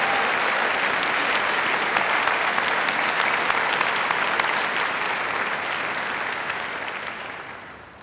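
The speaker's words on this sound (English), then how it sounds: "Please join me in a round of applause for these fine employees." An audience at a high school graduation claps together in a dense, sustained round of applause that holds steady for several seconds, then gradually thins and fades out.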